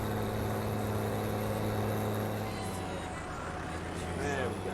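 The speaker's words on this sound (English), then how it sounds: "I am in an International 1050 XL. I actually really love this tractor. This tractor sounds awesome as well." An International 1050 XL tractor in Farming Simulator 19 rumbles with a steady low engine drone and droning harmonic hum, continuous and close, while someone talks over it.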